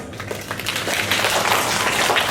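An audience applauds a student after a declamation speech at a school competition, a steady wash of many hands clapping, moderately loud, building slightly and continuing without voices.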